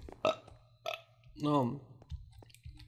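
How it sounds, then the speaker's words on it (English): A few short burps in a row, with one long drawn-out belch in the middle, close and fairly loud against a low background hum. "Burping, hicking, upping, and coughing at the same time"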